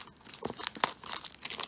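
Plastic packaging from a Miracle Box Kwami toy is crinkled and torn open by hand, with quiet, close, irregular crackling bursts and rips.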